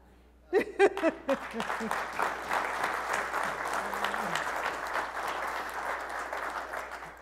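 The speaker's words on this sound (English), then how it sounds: "You can clap for that." Audience at a workplace address bursts into applause after a few sharp early claps, then sustains steady, dense clapping from a crowd, with brief laughter and voices mixed in at the start.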